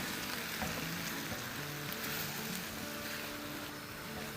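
A handful of shredded cabbage sizzles in a hot pan for a chicken pasta dish, giving a steady, close, even frying hiss that runs without pause and without talk.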